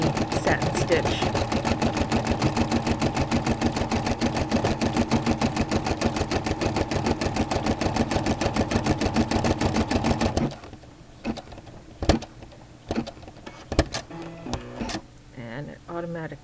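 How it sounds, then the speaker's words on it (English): A Brother SE-400 embroidery machine stitches a fine satin-stitch outline with a loud, rapid, steady mechanical chatter for about ten seconds, then stops and leaves quieter scattered clicks and clunks. "You can see it's just doing a little tiny satin stitch."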